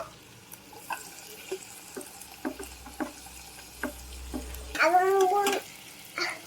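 Chili and tomato frying in a pan for fried rice, with a soft sizzle under repeated stirring and spatula scrapes, a brief louder hiss bursting up near the end as more goes in.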